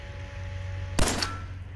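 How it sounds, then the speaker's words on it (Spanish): A single sharp gunshot in Fallout 4 cracks out loud and close midway, with a short ringing tail over a low steady game hum. "Aquí pego tiros a todo lo que se mueva."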